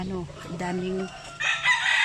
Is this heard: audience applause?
no